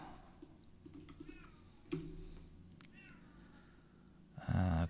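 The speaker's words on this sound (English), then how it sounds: "Oh, I hear my cat complaining." A house cat meows for attention twice in short, plaintive calls amid light clicking and tapping indoors, followed by a brief louder rumble at the end.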